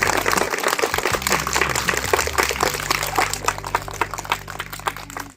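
Schoolchildren clap together to welcome visiting guests at a school twinning event in India, a busy patter of applause over a steady tonal hum, thinning toward the end.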